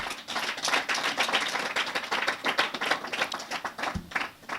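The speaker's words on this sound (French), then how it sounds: "au président de Renova, M. Sewade Patrice, que je vous demande d'applaudir" Audience applause at a ceremony honouring the president of an agricultural development network, a dense wash of many hands clapping steadily throughout, fairly close and moderately loud, fading slightly at the end.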